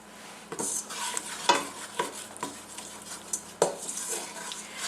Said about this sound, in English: Keep stirring, keep moving it all around so that it continues to brown evenly.